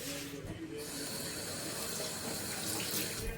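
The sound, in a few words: hot oil spattering while frying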